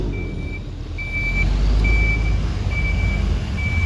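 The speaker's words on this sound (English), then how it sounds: "a fire truck." Fire truck reversing, with five evenly spaced high electronic beeps over a deep engine rumble at a ceremony, loud and near, with no voices.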